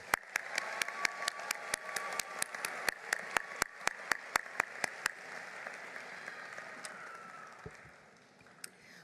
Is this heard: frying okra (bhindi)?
no